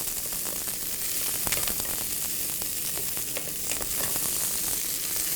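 Food sautéing in a pan during a smoked roast beef rib and cauliflower purée cook, a dense continuous sizzle with faint crackles, close and steady without talk.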